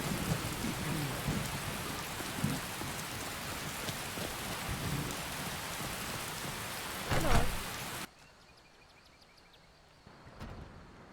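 Heavy rain pours steadily in Skyrim with a rumble of thunder partway through, dense and loud, then cuts abruptly to a much quieter backdrop with faint drips.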